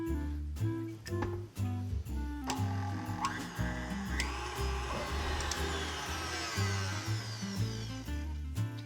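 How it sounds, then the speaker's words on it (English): A stand mixer fitted with a wire whisk attachment beats egg whites, its motor whirring steadily and rising in pitch for about nine seconds, with background music throughout. "We're gonna put it into our stand mixer, and we're going to beat it for quite a while until it starts to get fluffy."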